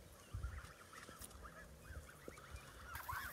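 Baby geese peep and cheep repeatedly in soft, high chirps close by, a scattered run of calls over a low background rumble and rustle, with one louder call near the end.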